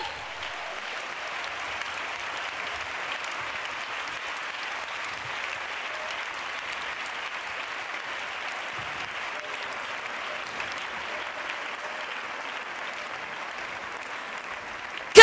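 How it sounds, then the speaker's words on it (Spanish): A church congregation applauds in a long, steady stretch of clapping, moderately loud and even, with little else heard. "Un aplauso para la gloria de Él."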